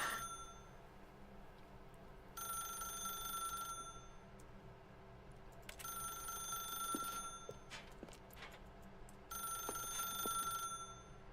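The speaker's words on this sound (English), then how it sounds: "So you're gonna get the phone ringing for 3 minutes." A telephone rings in repeated bursts, three long trilling electronic rings separated by pauses, clear and moderately close with faint background noise and no talking.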